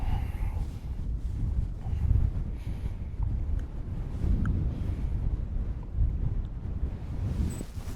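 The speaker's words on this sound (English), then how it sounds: "it shows you how windy it is today" Strong gusting wind buffets the microphone outdoors on a golf course, a continuous low roar with surging gusts throughout and no talking.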